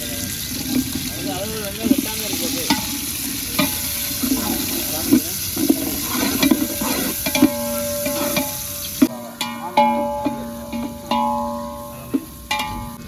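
Chopped onions sizzle loudly in hot oil while a spoon scrapes and stirs the pan, and a person talks in Tamil over the frying while cooking tomato rice.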